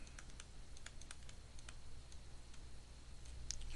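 Rapid, uneven keystrokes clatter on a computer keyboard in quick bursts of light clicks, close and fairly quiet, with no one talking.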